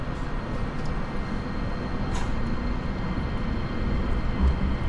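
JR Kyushu Nagasaki Main Line local train running between Nagasaki and Isahaya, a steady broadband rumble and rolling noise heard from inside the car, continuous and fairly loud with no talk over it.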